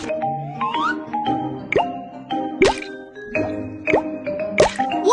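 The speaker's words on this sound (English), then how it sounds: "And wash the back of his hands." Cartoon-style hand washing in the Super JoJo baby care game: bubbly plops, drips and squishy water effects in quick bright bursts, close and clear, with a soft musical tone underneath.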